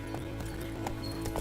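Horse hooves clip-clopping in The Witcher 3 video game, a steady repeating beat of hoofbeats over a constant low rumble, with a few sharper hits and a faint whinny-like tone.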